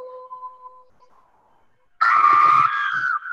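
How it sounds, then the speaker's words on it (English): A sudden loud, sustained scream bursts in after a quiet stretch with a faint steady tone, holding for over a second. "Then suddenly screams"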